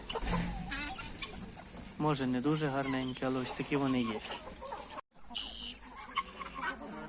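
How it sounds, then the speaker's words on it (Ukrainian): Chickens cluck and murmur close by while someone talks over them, with brief pauses between phrases. "половина курей бігає, їсть"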